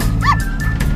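A dog in the GTA 5 video game gives a short yelping bark, loud and close, with a couple of fainter follow-up yips.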